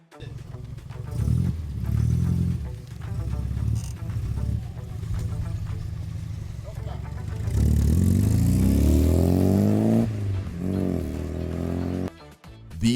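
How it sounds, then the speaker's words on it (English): Classic Mini cars of a Kenyan owners' club driving in convoy, small engines humming and revving steadily throughout, with a louder rising engine pass near the end and some clatter, close to the listener. "as you can see, the cars are running smoothly, no issues"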